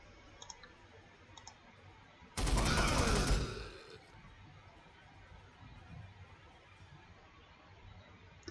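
A Warhammer 40,000: Sanctus Reach battle erupts into a burst of gunfire lasting over a second, loud and crackling, set between quiet stretches of faint interface clicks.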